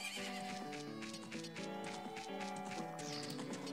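Horses in an enclosure whinny loudly and close by, with hoof clip-clops and some faint background noise.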